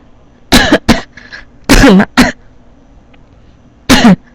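A series of sharp, close coughs in short bursts with brief pauses between them, and no talking.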